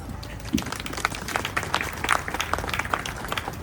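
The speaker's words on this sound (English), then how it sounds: "Give yourselves a round of applause." A gathered crowd outdoors at a county courthouse applauds for a Sojourner Truth Day celebration, a steady patter of many hands of moderate loudness with a few sharper individual claps.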